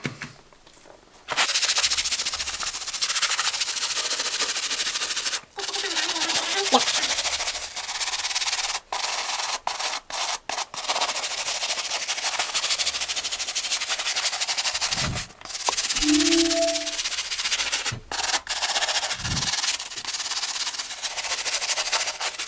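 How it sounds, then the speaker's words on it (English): A brush scrubs dirt off the midsole of a white sneaker with cleaner, giving loud, close bristly rubbing in repeated bursts separated by brief pauses. "Just a nice little scrub we'll do on these shoes."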